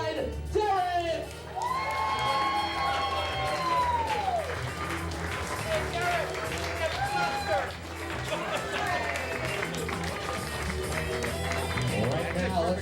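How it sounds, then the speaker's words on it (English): Wedding guests clap, cheer and whoop as the wedding party is introduced, a lively crowd roar under an amplified announcer's voice and background music. "everyone, I want to hear a round of applause for Chelsea, escorted by the brother of our bride, Derek!"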